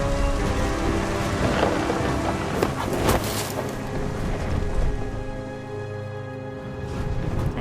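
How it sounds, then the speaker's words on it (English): Steady rain patters throughout while thunder cracks and rolls a few times in a video game thunderstorm, loud bursts rising over the downpour before easing back. "The thunder sounded much too close and full of angry power."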